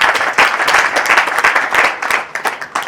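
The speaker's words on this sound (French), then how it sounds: "Je nous demande de nous applaudir" Guests at a reception evening applaud themselves, a loud, close burst of many hands clapping with an uneven, pulsing rhythm and a few sharper individual claps standing out.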